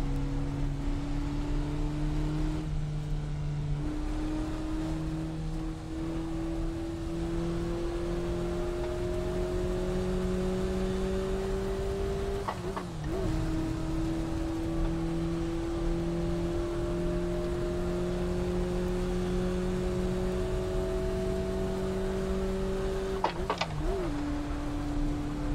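A Mazda MX-5 engine drones steadily as the car laps the Nürburgring in the Assetto Corsa racing game, its rising tone dipping briefly at gear shifts and bends, loud and continuous with no voices.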